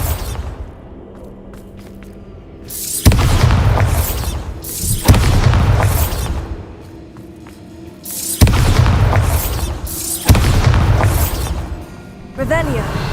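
Bombarda spell blasts in Hogwarts Legacy, a series of four heavy booming explosions spaced a couple of seconds apart, loud and close, each followed by a rumbling decay over a low game background.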